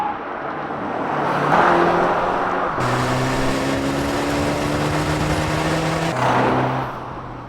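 A BMW X2 M35i sporty SUV pulls away, its engine swelling and revving through rising gear pulls, loud and close, then easing off near the end.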